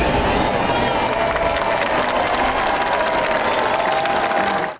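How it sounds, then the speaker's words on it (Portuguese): A large crowd applauds Pope Francis appearing at the Apostolic Palace window, dense continuous clapping mixed with cheering, loud and sustained before cutting off abruptly at the end. "A aparição dele na janela do Palácio Apostólico foi recebida com emoção"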